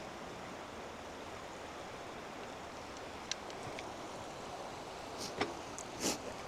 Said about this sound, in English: But the Buffalo Creek flows from left to the right here.